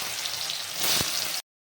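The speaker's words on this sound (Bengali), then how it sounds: "এখন আমি সোয়াবিনটা ভেজে নিব।" Soybean chunks fry in oil in a wok, a steady close hiss that swells briefly in the middle and then cuts off abruptly.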